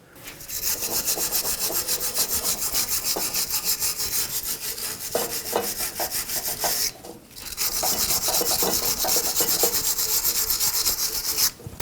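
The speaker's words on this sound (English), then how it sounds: "All right, let's wire brush that surface." A wire brush scrubs the exhaust pipe flange surface during a front-left catalytic converter replacement on a 2013-2020 Nissan Pathfinder. The scraping is fast, continuous and close, with one brief pause midway.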